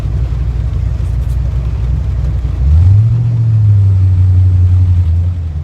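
A 1980 Ford Mustang with a swapped V8 and an aftermarket cam rumbles at a choppy idle close by, then revs up and holds a higher drone for the last few seconds.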